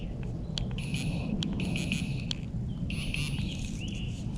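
A metal detector pinpointer in the woods gives off repeated high electronic beeps and chirps, some short and some drawn out, over a steady broadband background hiss.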